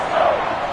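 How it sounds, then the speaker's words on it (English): Stadium crowd noise from Madden 22 rising ahead of a big third down in a Packers game, a brief steady roar of cheering. "The crowd getting into it as we come up on a big 3rd down."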